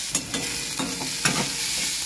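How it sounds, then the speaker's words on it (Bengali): Chopped onions frying in a pan after bay leaf tempering, sizzling steadily while a utensil stirs them, with several distinct scraping strokes cutting through the close, continuous hiss. "এ দেখো পেঁয়াজগুলো কিছু কিছু করে কেটে নিয়েছিলাম, এটাকে ভাজবো লাল লাল করে।"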